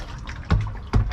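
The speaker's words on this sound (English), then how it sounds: "you can even hear that there's some liquid in there still" Leftover water sloshes inside a Sprinter camper van's gray water storage tank, two short, close, hollow splashes as the tank is moved, separated by a brief pause.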